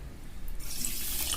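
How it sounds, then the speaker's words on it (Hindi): Water pours into a bowl of sugar for syrup in a home kitchen, a steady close splashing that rises after a brief quiet start and continues alone. "तो इसमें हम आधी कटोरी पानी डाल रहे हैं"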